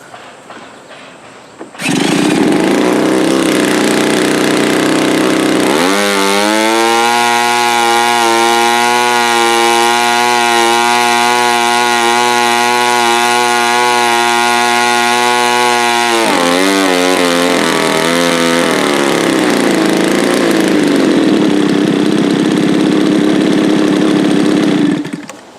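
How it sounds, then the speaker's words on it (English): A small Colt model airplane engine, hand-started, bursts into a loud, steady, high-pitched buzz at close range and holds for about twenty seconds, then shifts pitch and keeps running with no talking. "Alright, that's the Colt engine."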